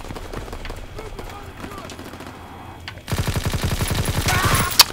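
A video game's gunfire erupts halfway through as a rapid, loud burst of shots that continues to the end, following a stretch of quieter voice and game sound.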